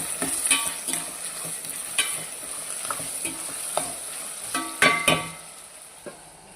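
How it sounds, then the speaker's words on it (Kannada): A spatula scrapes and taps against a pan in irregular strokes while ivy gourd sizzles steadily underneath, close by, with no talking. "ಈಗ ಒಂದು ಸಲ ಚೆನ್ನಾಗಿ ಮಿಕ್ಸ್ ಮಾಡಿಕೊಳ್ಳೋಣ"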